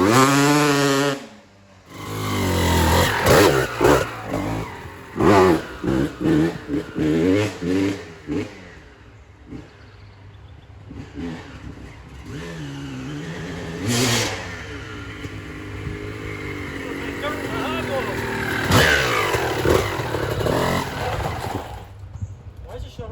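A two-stroke engine, apparently on a moped with a grabby clutch, revs in sharp bursts under loud overlapping talk, then drops to a rough, uneven idle.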